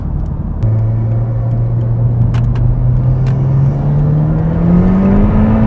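A 332-horsepower car accelerates hard on the A24 road, its engine a loud, steady rising drone from inside the cabin that climbs in pitch over several seconds with no talk.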